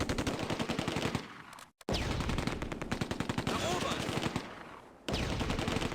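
MG42 machine gun fire in the Close Combat: A Bridge Too Far game, Oosterbeek, Operation Market Garden, rattles as rapid sustained bursts with a sharp break near the two-second mark, a softer stretch after four seconds, then renewed firing.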